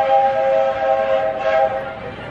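A single long, steady whistle from the Magic Kingdom railroad train at Walt Disney World sounds for about two seconds, then fades out, with faint background noise.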